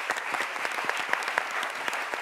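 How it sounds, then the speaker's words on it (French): An audience at a comedy-themed midday show applauds, a steady moderate patter of many hands clapping throughout with a few sharper individual claps standing out. "Je vous invite à applaudir."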